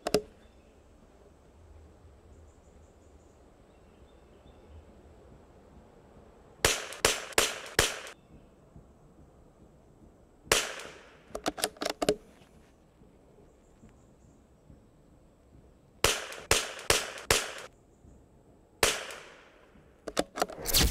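Springfield 2020 rimfire .22 rifle firing CCI Standard Velocity ammunition, shot in four quick strings of about four to five sharp reports each, separated by quiet pauses, with no talk.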